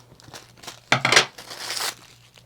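Thin craft tissue paper is torn by hand into small pieces, giving a close, loud burst of ripping and crinkling followed by a softer second tear.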